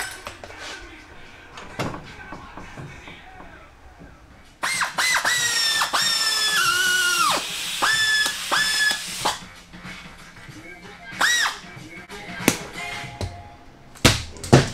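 A Harbor Freight power drill whirs in several bursts while cutting a Ford S550 Mustang trunk, its pitch rising and falling as the trigger is squeezed, with clunks and tool clatter between runs.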